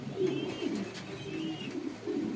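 Racer satin pigeons cooing close by, low soft rolling coos repeating steadily over a light chirpy background.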